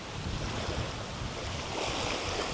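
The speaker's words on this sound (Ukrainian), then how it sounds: "Не вщухає в нас вітер" Strong wind and waves on a lake during a summer fishing trip make a steady, loud roar of gusts and lapping water, with heavy wind buffeting on the microphone throughout.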